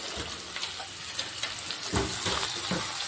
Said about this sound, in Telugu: ఇది ఒక two to three minutes fry అవ్వాలి